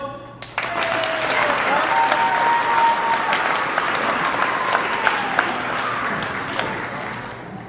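A Class Day 2018 crowd claps and cheers in a large, dense burst of applause that holds steady throughout, with faint voices and whistles mixed in.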